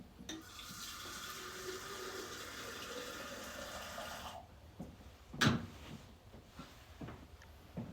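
Water pours steadily into green sand for about four seconds, then stops abruptly, followed by a single soft thud and quiet handling noises.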